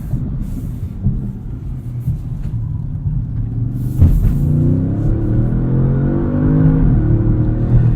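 2016 Audi S7 launching hard, heard from the cabin: a deep rumbling engine that swells after a thump midway, its rising whine climbing in pitch through the run, with no talk.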